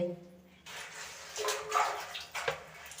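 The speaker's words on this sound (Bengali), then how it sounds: "পাম্প চালিয়েছি কি নোংরা জল পড়ছে" Dirty, iron-clouded water pours and splashes steadily into a household water tank while a pump runs, close and continuous, with faint voices in the background.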